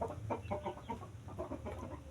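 Kampung bantam chickens, about fifteen birds, cluck softly in a pen, with overlapping short calls in a steady murmur at moderate distance.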